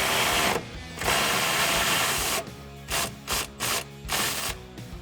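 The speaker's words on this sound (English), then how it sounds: "using your 18 millimeter socket, pull the nut on the far side." An 18 mm socket on a ratchet turns a nut off the through-bolt of a tow hook on a 2019–2020 Silverado 1500 frame rail. It makes a rapid mechanical whirring that breaks into several short bursts near the end.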